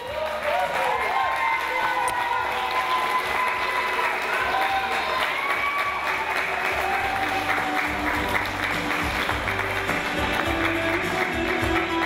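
An audience claps steadily and continuously, a dense sustained round of applause with some cheering mixed in.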